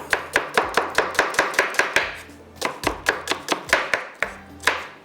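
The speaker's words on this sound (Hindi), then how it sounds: "प्याज को कटिंग कर लेते हैं जब तक ऑयल हमारा गर्म हो रहा है।" Onions chopped with a knife on a cutting board, a quick steady run of about two dozen sharp close knocks in bursts with a brief pause in the middle, no voices.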